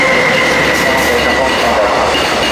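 A JR Freight EH500-21 electric locomotive hauls freight train 3086 through Saitama-Shintoshin station with a loud, steady rumble and a high wheel whine that fills the whole stretch.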